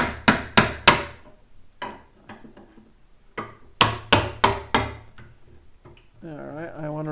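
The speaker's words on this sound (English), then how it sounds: "then I just take another chisel and move it down a little bit" Sharp hammer blows drive a chisel into wood to pop loose a piece of a wooden hope chest, struck in two quick bursts of four near, loud whacks with quieter taps between, and a brief voice near the end.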